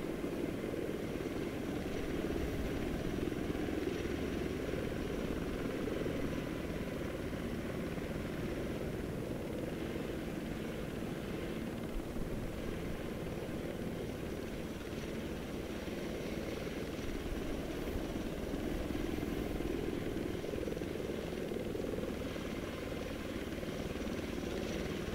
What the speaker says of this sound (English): I'm gonna have the chopper take off and head towards LZ2.